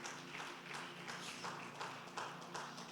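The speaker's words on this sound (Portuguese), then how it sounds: "Quem pode aplaudir a Jesus por isso?" A church congregation claps together at a worship service, a faint, steady patter of many hands heard from a distance with no voices over it.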